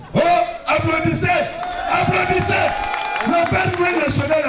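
A crowd at a launch ceremony at the CIMENCAM cement works in Figuil cheers, whoops and claps, with loud overlapping voices and a steady tone running beneath the noise throughout.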